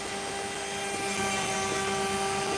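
A small rotary drill grinds steadily on an opal, a continuous close whirring hum with a slight rise in intensity midway, no voices.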